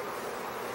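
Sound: swarm of bees buzzing

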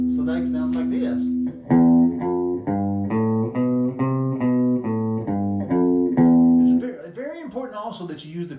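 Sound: guitar playing scale on two strings

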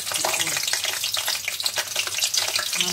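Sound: onion frying and bubbling in hot oil

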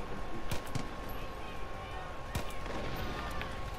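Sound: gunfire from shooting in a video game

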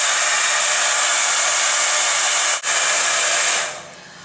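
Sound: hair dryer blowing on a strand of hair

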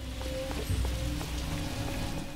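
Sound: rain in the video game L.A. Noire

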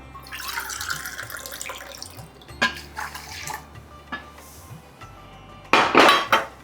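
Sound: water poured into a pan with sugar

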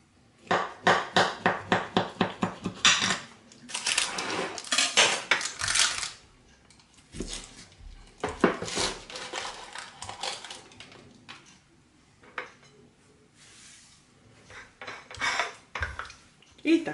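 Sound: cutting a piece of Bajaderka cake with cutlery

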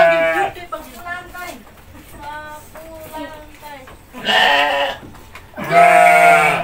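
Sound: goat bleating

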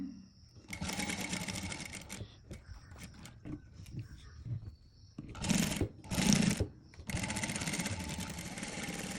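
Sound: sewing machine stitching an A-line frock shoulder seam

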